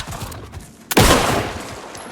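Gunfire in the video game Alan Wake II as a wolf is shot: a quiet, rumbling stretch gives way to one sharp, loud blast that rolls into a sustained dense roar of shots, with no talk over it.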